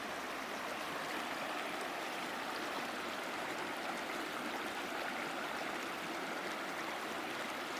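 A river flows beside a campsite on the Pacific Crest Trail, making a steady, full broadband rush of water that stays even and close for the whole stretch, with no voices over it.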